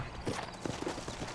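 Horse hooves clip-clop on the ground in Red Dead Redemption's Old West, a brisk uneven rhythm of close, fairly loud strikes with no talking.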